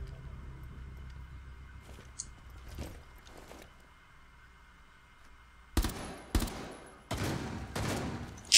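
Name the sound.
gunfire in Rainbow Six Siege video game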